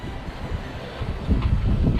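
Steady wind buffets the microphone outdoors beside a Nissan Terrano 4x4, a low rumbling roar that swells louder toward the end, with no voices heard.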